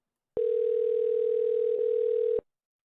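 A telephone call connects and gives a single steady, loud tone that holds for about two seconds with a brief dip near the end before cutting off.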